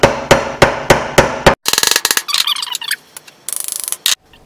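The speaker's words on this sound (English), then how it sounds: "So I'm just going to use a hammer to tap this together." A hammer taps parts of a germination station leg together: a steady run of sharp, loud strikes at first, then quicker clustered taps mixed with squeaky rubbing of the parts, all close and with no talk.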